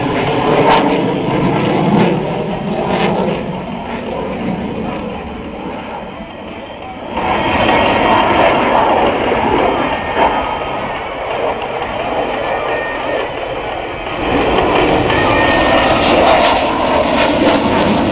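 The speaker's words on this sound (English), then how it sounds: "Just taken the power off the big Pratt & Whitney F100 engine" A fighter jet with a Pratt & Whitney F100 engine roars past at the Sanicole airshow, a loud, sustained rushing thunder that surges, eases and rises again as power changes.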